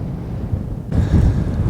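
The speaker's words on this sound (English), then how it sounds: "Man, it's windy." Strong wind gusts roar across the microphone in a desert wash, a loud, low buffeting rumble that surges sharply partway through.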